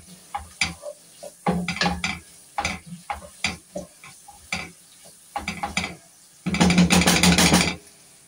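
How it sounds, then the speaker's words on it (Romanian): Bell peppers, capia peppers and other vegetables sautéing in a pan, with scraping and stirring clatter in short bursts followed by a louder stretch of steady sizzling near the end. "Călim așa, mai lăsăm aproximativ un minut jumate"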